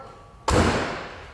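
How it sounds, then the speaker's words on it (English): A 1969 Chevrolet Camaro RS/SS door swings shut with a single solid, close thud that rings out briefly and fades, with no talk over it. "We'll go ahead and close the door up."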